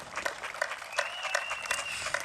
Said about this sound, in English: can we get a big round of applause for these great men?